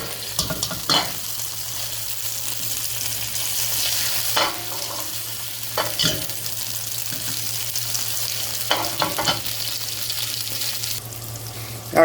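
A burger patty sizzles on a grill with barbecue sauce added, a steady close crackling hiss broken by occasional sharp pops and scrapes, with a low hum running underneath and no voices.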